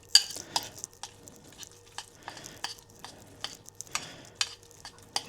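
Oats being stirred in a bowl give a run of soft, irregular scraping and clinking strokes at close range, with a faint steady hum beneath and no voices.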